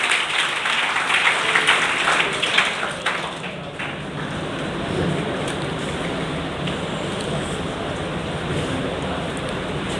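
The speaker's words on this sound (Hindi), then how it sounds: "तालियां बजती रहनी चाहिए।" Audience clapping at a NEET-2022 felicitation ceremony, a dense wash of applause that is loudest at the start and then settles into a softer, continuous patter through the rest of the clip.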